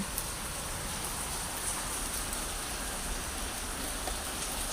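Steady rain on a rainy day with distant thunder rumbling, a dense, even hiss of falling drops holding constant throughout with no voices.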